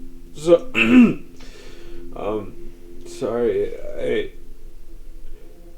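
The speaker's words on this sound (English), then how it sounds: "clears his throat" A man clears his throat several times in short, rough vocal bursts, close and distinct against a quiet background.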